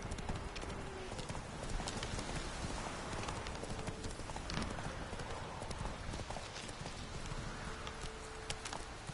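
Horse hooves galloping in the video game The Witcher 3: a fast, steady, loud drumming of hoofbeats that runs throughout, with dense game ambience, an occasional faint snort and no talk.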